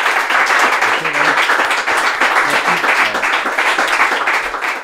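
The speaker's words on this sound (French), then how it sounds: "On l'applaudit." Sustained audience applause and clapping at a podcast recording about running, loud and dense for several seconds, with a voice speaking faintly underneath.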